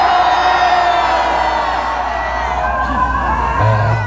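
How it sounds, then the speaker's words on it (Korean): A dense rally crowd cheers and whoops loudly and continuously at a conservative political gathering, with shouts rising above a steady roar. "뜨거운 함성 발사!"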